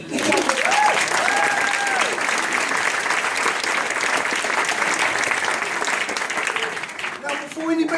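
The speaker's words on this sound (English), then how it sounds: "Round of applause." A seated audience at a traditional Māori cultural show in Tamaki Village breaks into steady, dense clapping that lasts about eight seconds, with a few whistles and voices mixed in.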